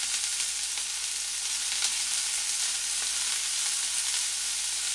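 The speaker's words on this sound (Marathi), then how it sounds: "तेलामध्ये मसाले परतून घ्यायचे आहेत." Coriander powder and turmeric fry in a little oil for a quick masala rice, giving a close, steady sizzle with faint stirring and no voices.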